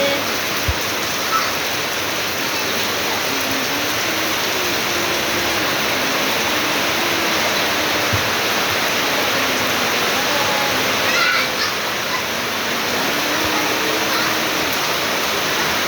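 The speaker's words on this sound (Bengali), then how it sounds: "সবাই দেখো কি জোরে আবার নামলো বৃষ্টি।" Steady, dense rain pours down continuously, a broad constant roar with no breaks, a few faint voices barely audible underneath.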